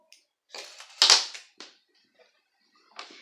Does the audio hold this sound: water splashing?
no